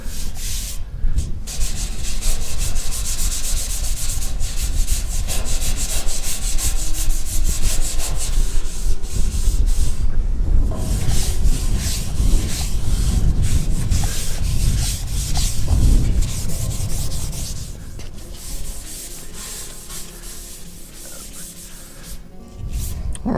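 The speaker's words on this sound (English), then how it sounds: "I'm going to use a Scotch-Brite pad on this with some lacquer thinner" A Scotch-Brite pad with lacquer thinner scrubs metal base trim on a red iron shop building, a loud continuous abrasive rubbing close up, steady and unbroken, easing slightly near the end.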